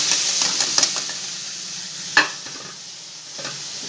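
Fresh peas and coriander go into a pan while matar pulao is being cooked, giving a soft sizzle with light stirring. One sharp clink of a utensil against the pan stands out, and no one talks.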